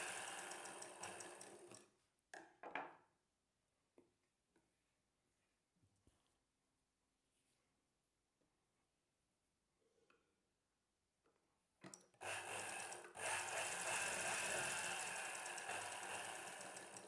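A sewing machine stitches together strips cut for a shrug neck piece, with a fast, steady mechanical whirring run at the start and a longer run at the end, and faint handling noises in the quiet gap between.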